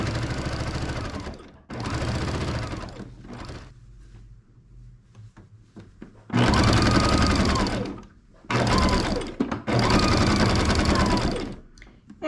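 A sewing machine stitches curtain panels in several loud whirring bursts, with quiet gaps and faint handling noises between runs.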